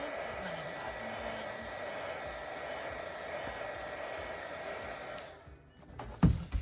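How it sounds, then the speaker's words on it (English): A heat gun blows a steady, even whooshing hiss over an epoxy pen for about five seconds, close and moderately loud, then cuts off, followed by a few small handling knocks. "Now I'm just going to hit it with a bit of heat."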